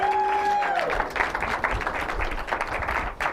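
Live-event audience applause, dense scattered clapping that follows a short held tone and continues steadily at moderate loudness for a few seconds.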